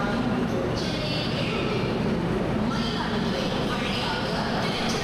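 A public-address train announcement plays on a platform at Chennai Egmore railway station, buried in dense, continuous station and train rumble at a constant loud level.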